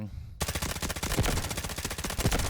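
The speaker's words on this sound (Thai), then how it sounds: "ปืนมันแบบมันคุมง่ายอ่ะไว้ใจได้อ่ะ แต่ติดที่มันแบบอาจจะยิงเบาไปหน่อย" A K416 rifle in the Delta Force game fires a long, rapid automatic burst, loud and close, with shots in a tight, even rhythm after a brief quiet start.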